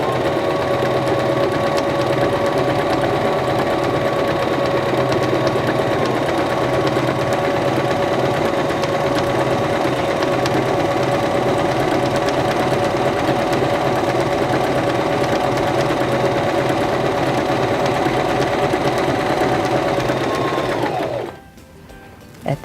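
Steady, loud motor hum and needle chatter from a Singer Start 1304 sewing machine stitching fabric, running continuously for about twenty seconds before stopping suddenly near the end.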